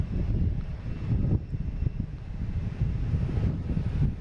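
A Bermuda airline Embraer E190 jet arriving as flight 301, a low rumbling engine drone mixed with gusty wind buffeting the microphone, steady and moderately distant.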